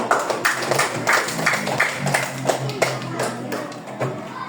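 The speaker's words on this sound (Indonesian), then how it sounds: "Tepuk tangan dulu untuk kelompok hijau." Classroom of students applauding the green group, a dense, continuous patter of close hand claps at full loudness, with voices mixed in under the clapping.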